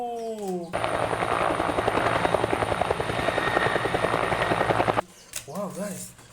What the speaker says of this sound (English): It's another one helicopter.